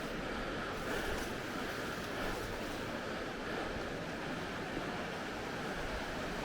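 Waterfall seen while touring Sakarya province in Turkey: a dense, continuous roar of rushing water that stays loud and steady throughout, with no talk and no breaks.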